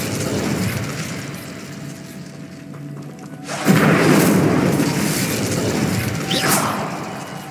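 An Incendio fire spell in a Harry Potter video game erupts with a sudden whooshing burst, preceded by a low magical hum and followed by a sustained roaring crackle of flame.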